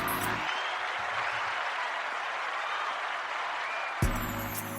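Applause from a small studio audience, a steady patter of clapping that runs several seconds, framed at start and end by a brief musical sting.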